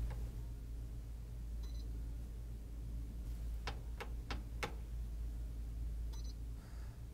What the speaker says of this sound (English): The control beeps 2 times and then starts the evaporator fan.